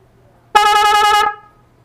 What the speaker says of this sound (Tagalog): narinig nyo naman kung gaano kalakas itong busina